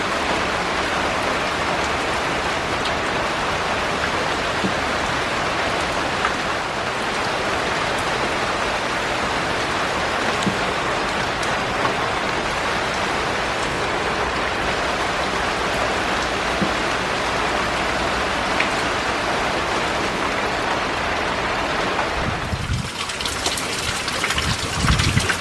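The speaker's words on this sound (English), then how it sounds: "I knew this rain was coming" Steady rain falls on a garden in a continuous close hiss, with no voices; a brief louder splashing swell comes near the end.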